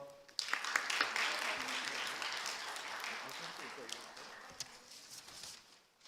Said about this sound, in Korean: 다 같이 한 줄로 서서 인사할 때 큰 박수 부탁드립니다